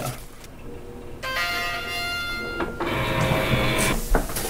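An HP Officejet Pro 8025e printer starting up, with mechanical whirs, tonal motor whines and clicks shifting through several short stages, heard close and alone.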